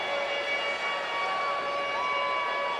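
A steady, sustained stadium siren wail in a Madden NFL football video game, Bengals at Colts, with wavering tones, loud and continuous over a background hum, no voices.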